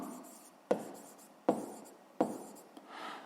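Pen writing on paper during a math exercise: faint, close scratching strokes with three distinct taps against a quiet room.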